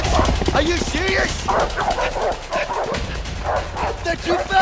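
Dogs bark and yip excitedly in a rapid, continuous stream, loud and close, with shouting voices mixed in over the commotion, in the video game A Way Out.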